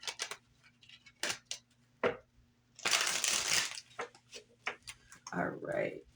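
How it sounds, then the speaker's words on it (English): Oracle cards are shuffled in quick papery bursts, with a longer riffling flurry midway, heard close up between brief pauses. "One more shuffle here."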